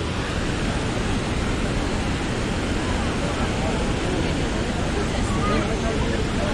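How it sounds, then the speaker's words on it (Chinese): The Huangguoshu waterfall in Guizhou, heard from directly below: a dense, unbroken roar of falling water fills everything at steady loudness from start to finish. "终于下到这里了，黄果树大瀑布下面。"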